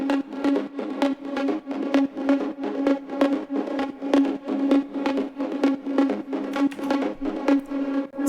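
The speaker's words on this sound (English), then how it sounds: "and now the Pluck sounds like this." Bright synth plucks play a fast, rhythmic pattern in a trance track, heavily compressed with OTT and sidechain ducking. The short notes pulse steadily and loudly for several seconds with no voices.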